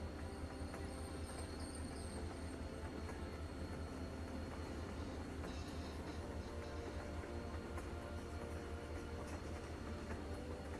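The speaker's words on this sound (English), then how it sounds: "Au moins un train." Train passing in The Walking Dead video game, a continuous low rumble with faint rattling wheels, steady and fairly quiet throughout.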